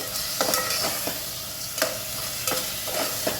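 Masala paste for village-style chicken biryani frying in a pan, a steady close sizzle broken by several sharp scraping stirs of a spoon, with no talking.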